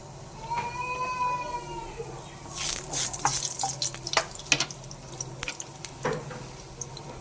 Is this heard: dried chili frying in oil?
yes